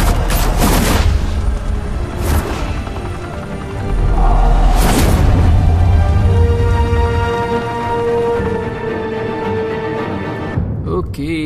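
Gunfire erupts in Batman: Realm of Shadows, loud bursts and booms in the opening seconds followed by a lingering rumble and layered game sounds, with voices speaking over parts of it.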